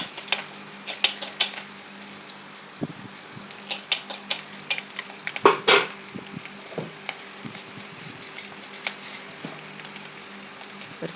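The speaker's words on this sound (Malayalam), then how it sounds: "ആദ്യമായി ചട്ടി അടുപ്പിൽ വെച്ച് കടുകൊക്കെ വറുത്ത് ഇഞ്ചി വെളുത്തുള്ളി മൂപ്പിച്ച്" Mustard seeds, ginger and garlic fry in oil in a pan for a prawn theeyal, a steady soft sizzle with scattered pops and crackles and occasional stirring clinks, one louder burst midway.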